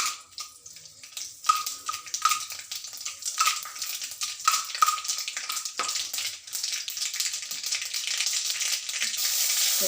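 Mustard seeds and turmeric sizzle in hot oil, a close crackling hiss with sharp popping spatters, busier early on and settling into a steadier fry toward the end.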